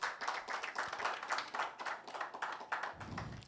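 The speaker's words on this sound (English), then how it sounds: "Please give her a round of applause." Applause from an audience at a panel event on financial inclusion in Nigeria: a faint, steady patter of many hands clapping throughout, somewhat distant, with no voices over it.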